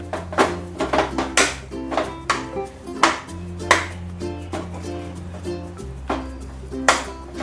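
A spoon scrapes and taps against a pan while sheera is stirred with ghee and cardamom, with irregular clinks and knocks repeating steadily over a low background hum.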